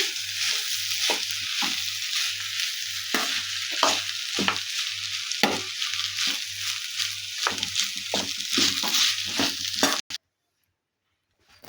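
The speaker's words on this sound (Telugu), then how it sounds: "దీంట్లో ఇప్పుడు మనం ముందుగా రెడీ చేసి పెట్టుకున్న రైస్ని కూడా వేసేసి బాగా మొత్తం ఒకసారి కలుపుకోవాలి" Cooked rice being stirred into carrot and mango pulihora in a hot pan, with a steady oily sizzle broken by a run of sharp spoon-scraping strokes, close and fairly loud, stopping abruptly near the end.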